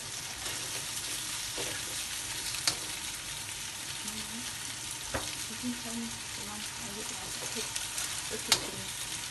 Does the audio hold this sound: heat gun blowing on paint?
no